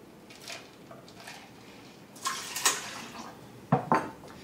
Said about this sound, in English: go ahead and add your 1 cup of ice cold water.